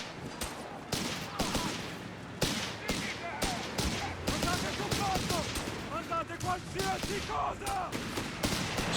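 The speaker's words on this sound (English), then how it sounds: "Moving in with the recce sections, engaging with their scoped Lee Enfield rifles." Scoped Lee Enfield rifle fire from recce sections in the Company of Heroes 3 battle game, sharp repeated cracks and bursts of gunfire scattered across the scene among other battle noise, with a voice talking underneath.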